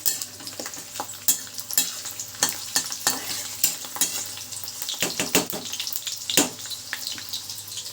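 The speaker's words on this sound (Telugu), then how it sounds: "ఇక్కడ కూర వండుతున్నానండి, బీరకాయ వేపుడు అనమాట." Ridge gourd frying in a pan, with a spatula scraping and stirring in irregular clinks and scrapes over a steady sizzle, some sharp metallic knocks close by.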